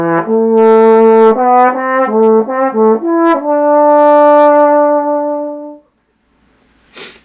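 An unmuted trombone plays a short melodic phrase of several distinct notes, bright and close, ending on a long held tone that cuts off, followed by near silence.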